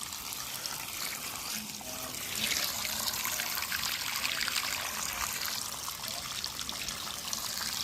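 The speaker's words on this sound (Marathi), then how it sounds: "हे बघा पाणी आपोआप कसं चाललं होतं" Irrigation water released into a field from a pipe, flowing and trickling steadily close by as a continuous gurgling wash that grows slightly louder partway through.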